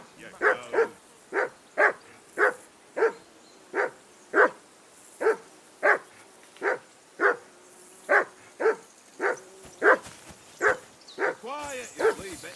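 A dog in Kingdom Come: Deliverance II barks repeatedly at a steady rhythm, about twenty loud, close, evenly spaced barks in a row, with faint outdoor ambience beneath.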